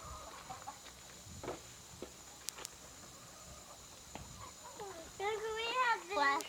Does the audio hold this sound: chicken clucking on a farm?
yes